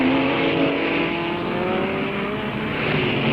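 Racing cars from the 1965 Guards International Trophy pass at Dingle Dell, a loud continuous engine roar with a droning pitch that slowly falls as they go by.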